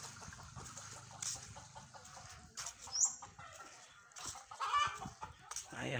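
A chicken perched on the roof of a neighbour's house clucks in short, scattered bursts at a distance, with a faint flutter of wings amid quiet outdoor background.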